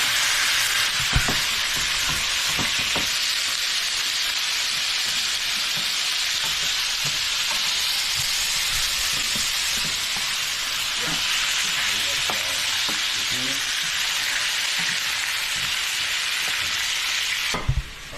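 Hot dogs fry in olive oil in a skillet, giving a steady, loud broadband sizzle with scattered pops and crackles. It runs unbroken for the whole stretch and cuts off sharply near the end.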